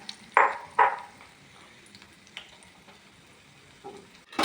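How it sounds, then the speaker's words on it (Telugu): Omelette frying in hot oil in a pan, soft sizzle punctuated by a few loud clinks and scrapes of a utensil against the pan. "ఆయిల్ వేడెక్కింది, ఆమ్లెట్ వేసేసుకుందాం."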